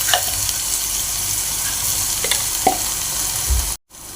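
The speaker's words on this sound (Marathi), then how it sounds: "कांदा घालून घेते।" Chopped onion hits hot oil with cumin and fennel seeds in a pan, sizzling and frying steadily throughout, with a few utensil clinks, before a brief silent gap and renewed sizzle at the end.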